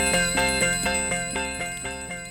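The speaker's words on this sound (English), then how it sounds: "When you hear the bell of the ice cream van, say hi to the ice cream man." Ice cream van bell ringing in quick repeated metallic strikes, a bright, steady rhythmic chiming that is loud and close, with no talk over it.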